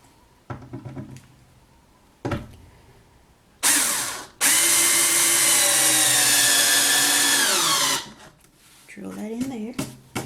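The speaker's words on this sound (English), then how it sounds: "So I'm gonna flip the box over and drill in the underside." A power drill drives a screw into the underside of a wooden box for a soap slab mold, one long steady whine with shorter bursts around it and a voice talking before and after.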